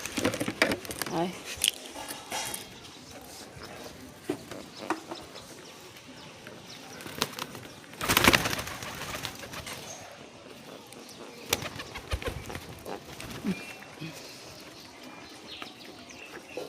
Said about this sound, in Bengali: তোমাদের কাদের বাড়ি কবুতর আছে দেখো, পায়রা কেমনভাবে খায় সব।